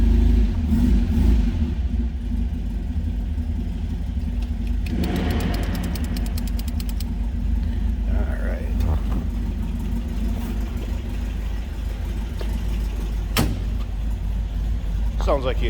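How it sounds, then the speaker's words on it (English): A 1971 MGB's inline-four runs after a cold start on a stock exhaust, idling with a low steady rumble and revving briefly, while someone speaks a few words nearby. "Sounds like you'd expect out in line 4. Nothing crazy. No wild exhaust."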